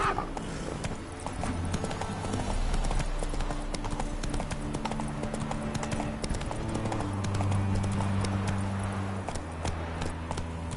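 Hooves of the horse Roach galloping in The Witcher III, a fast, steady clip-clop rhythm that runs the whole time, set against a sustained musical score.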